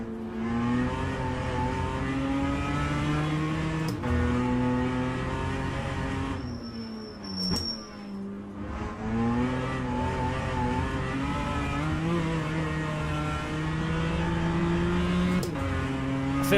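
A loud race car engine in the rFactor 2 racing game drones and shifts pitch continuously through gear changes, resembling a London Underground train, with a brief dip in the middle and no voices.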